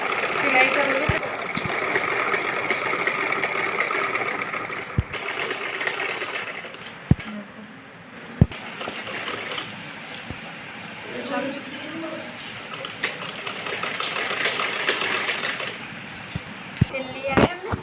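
A sewing machine stitching a kachli, running in long steady bursts of fast mechanical whirring with brief pauses and a few sharp clicks, close and fairly loud, with a voice talking underneath at times.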